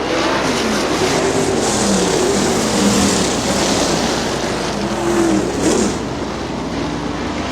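Non-wing sprint cars roar around a dirt track during a heat race at the Dealer's Choice event, engines loud and continuous with rising and falling passes as the pack circles close by.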